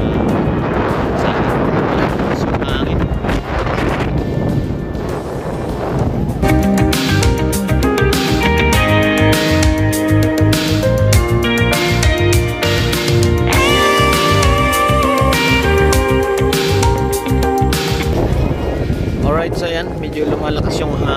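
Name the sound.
strong wind on microphone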